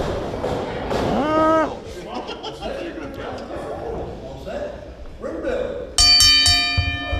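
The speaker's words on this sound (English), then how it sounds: "there's the sound of the bell" Wrestling ring bell at a WWN Proving Ground singles contest, struck several times near the end as a bright metallic clanging over loud crowd noise, following earlier talk and a single chime.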